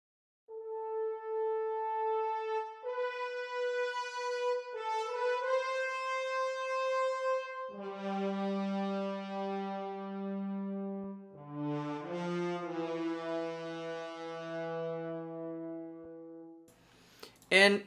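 A brass section holds broad, sustained chords that move through several changes in a dramatic war-themed orchestral piece, with a brief sharp hit right at the end.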